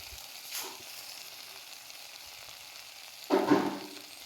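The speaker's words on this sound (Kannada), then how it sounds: "ಹಿಂಗೆ ಚಟ್ಪಟ್ ಅನ್ಬೇಕಾದ ಸೌಂಡ್." Garlic tempering in hot oil, a quiet steady sizzle with two brief crackling bursts, a faint one early and a louder spattering flare near the end.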